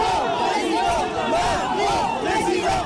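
Militants shouting political slogans in a dense crowd at an outdoor market, a continuous loud chorus of overlapping voices with rhythmic chanted rises.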